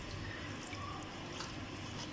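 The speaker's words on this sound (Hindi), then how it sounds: "अब हम इसमें पानी शामिल करते हैं।" Water trickling and splashing into a pot of black chickpea curry, a soft liquid pour heard up close at low level with no voices.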